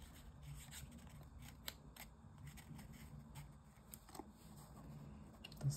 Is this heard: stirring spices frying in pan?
no